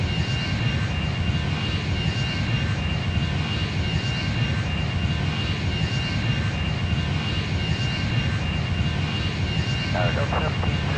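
Boeing 737 jet engines roar steadily and loudly during takeoff in the Airline Commander flight game, a dense continuous rumble with radio voices faintly underneath.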